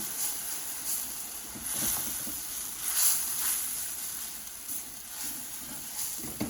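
Roux hitting oil flavored with lightly browned ginger and garlic sets off a steady, moderately loud hiss, with brief swells of bubbling sizzle while it is stirred for orange chicken.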